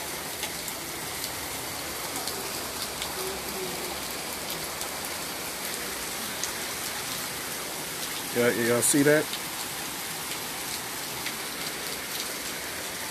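Heavy rain falls in a steady, dense hiss of drops striking surfaces. A person speaks briefly partway through over the downpour, which continues unbroken.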